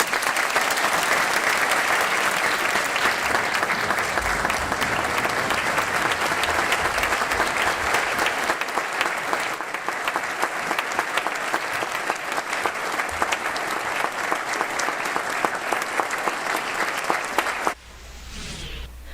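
Applause at a police chief swearing-in ceremony, long continuous clapping from a large crowd, loud and even throughout before dropping off sharply near the end.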